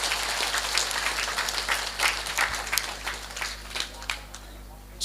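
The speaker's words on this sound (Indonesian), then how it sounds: "Tepuk tangan dulu kok." An audience at an Islamic religious gathering in Cilongok, Banyumas breaks into scattered applause, a steady patter of clapping at moderate distance over a low hum, with some talking mixed in.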